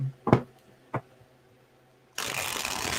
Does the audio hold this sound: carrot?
no